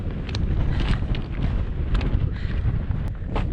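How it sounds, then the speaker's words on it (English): Strong wind buffets the microphone on a mountain path near a crag in the Lake District, a continuous loud, gusty rumble with no talking. "focusing on staying upright as the strength of the wind intensified"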